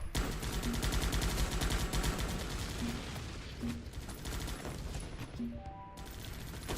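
Sustained rapid gunfire in the Guns Up! strategy game rattles continuously as units focus fire on base walls, with dense overlapping machine-gun bursts and occasional brief tones on top.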